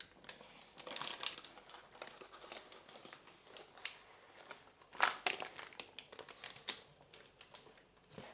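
Baking paper crinkles and rustles as an aubergine roulade is rolled up: continuous close, irregular crackling with louder bursts as the sheet is pressed and folded.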